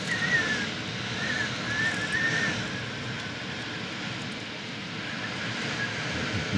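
Jet aircraft passing high overhead on a windy summer day in Limerick city, a steady broadband roar blended with gusting wind noise, faint thin whine above, no talking.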